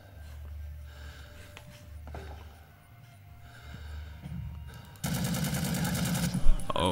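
Gunfire in the Vietnam-era shooter game Rising Storm 2 Vietnam: after a stretch of low rumbling ambience, a loud, dense burst of shots erupts and keeps going to the end, with one sharp louder crack near the close.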